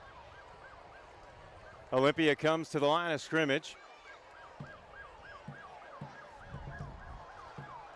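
Wailing emergency sirens rise and fall steadily behind a 2023 Dr. Phillips vs Olympia high school football game, heard throughout at moderate distance while a play-by-play announcer talks over them.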